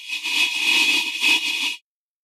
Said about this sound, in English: As you listen, absorption of carbon dioxide will sound like this.